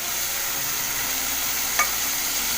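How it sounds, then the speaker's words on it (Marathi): Vegetables sautéed in a pan hiss in a loud, unbroken sizzle close by, with one brief clink of a stirring utensil and no one talking. "आता ही भाजी टाकूया"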